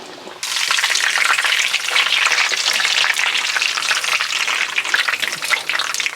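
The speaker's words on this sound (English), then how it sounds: "We're gonna be doing a double fry situation, so I just wanted to get nice and golden" Pork cutlets for tonkatsu deep-fry in oil, shown as a loud, steady crackling sizzle that starts suddenly and carries on throughout with dense popping, and no one speaks.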